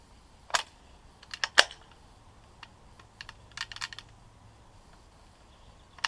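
Safety and half-cock engaging on a Siam Wild Tiger Corps SMLE bolt-action rifle, a few sharp close metallic clicks spread irregularly over several seconds, with quieter handling ticks between them.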